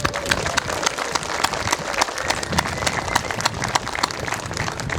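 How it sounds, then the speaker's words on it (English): A small crowd applauds new Australian citizens at an Australia Day ceremony on King Island, with brisk, continuous clapping heard close up for the whole stretch. "So let's give them a round of applause."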